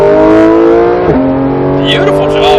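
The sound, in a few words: supercar engine accelerating at full throttle on track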